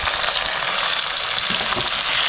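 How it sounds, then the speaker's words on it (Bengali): Tomato and fried onion are stirred together in hot oil for a prawn curry, a brief, loud, close sizzle with soft scraping and mixing sounds throughout. "টমেটো দিয়ে ভালো করে মিক্স করে নিচ্ছি।"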